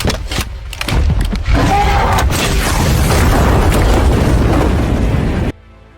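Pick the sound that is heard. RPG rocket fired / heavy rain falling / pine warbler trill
RPG rocket fired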